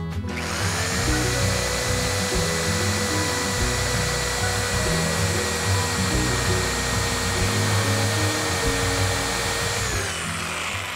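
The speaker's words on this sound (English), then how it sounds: "So we'll just finish that corner there with a jigsaw." Jigsaw finishing a corner cut in a 2x12 stair stringer, a loud continuous motorized whine with a buzzing blade that holds steady for about ten seconds, then winds down at the end.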